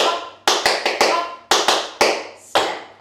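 Tap dance double shuffles played on the flat of the foot ring out as sharp, bright strikes in tight groups of two to four, each rapid flurry followed by a brief gap, loud and close with no voices.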